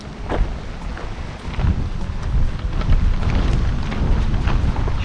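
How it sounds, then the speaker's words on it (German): Strong wind gusts buffet the microphone outdoors on a spring hiking trail in Sweden, a loud rumbling roar that swells and stays heavy throughout, with no voices. "Ah, da kommt der wilde Wind."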